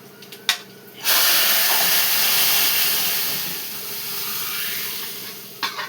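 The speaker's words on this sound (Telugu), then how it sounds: "తాలింపు మరి ఏగిపోయింది అమ్మ. ఇదిగో పప్పు వేసేసుకుందాం ఇప్పుడు." Dal is poured into a hot tempering of spices in a pan, setting off a sudden loud sizzling hiss that stays steady for several seconds before fading, close by, with a few clinks at the start and end.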